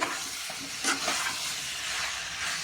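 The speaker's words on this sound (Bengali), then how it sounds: "এটাকে আমি একটু কষিয়ে নিচ্ছি।" Potatoes sautéing in a pan with fat for Bengali-style alur dom, a constant close sizzle and hiss with a few soft stirring scrapes, no voices.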